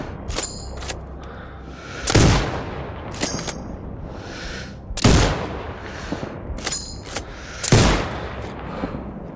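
Sniper rifle gunshots in the video game Sniper Ghost Warrior Contracts 2: three loud, sharp shots spaced about three seconds apart, with smaller clicks and mechanical noises between them.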